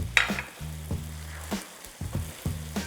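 Chicken stir fry with onions and green onions sizzles in a pan, with several distinct scraping stirs of a utensil and clunks against the pan over a soft frying hiss.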